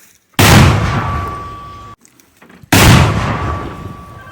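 Two loud, close weapon shots, each a sharp blast followed by a long ringing decay, separated by a short pause.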